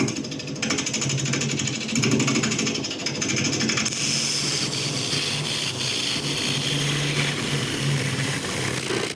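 Woodturning lathe hollowing out a redwood cone and resin piece, giving a steady, loud grinding and chattering drone that runs unbroken throughout, with a brief shift in tone partway through.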